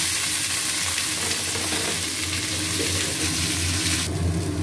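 Potatoes frying in hot oil tempered with fenugreek, asafoetida and green chilli, a loud, dense and continuous sizzle right up close with no talk.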